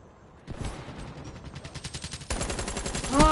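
Rapid video-game gunfire punching through a wall in a multiplayer match, a dense automatic burst running steadily, then growing louder and sharper toward the end, with no talk over it.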